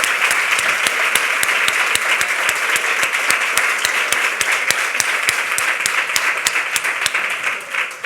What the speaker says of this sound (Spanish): Ese aplauso, por favor.